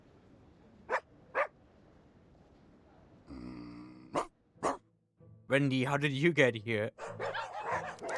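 A few short, sharp dog barks in the video game Reverse: 1999 ring out between quiet gaps, followed by a person speaking over continued background sounds.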